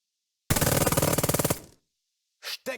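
Machine gun team in the WWII game Burden of Command opens fire with one sustained rapid burst lasting about a second, loud and close, then falls silent before two short clipped bursts.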